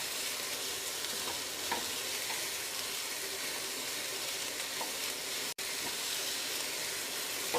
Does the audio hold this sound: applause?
no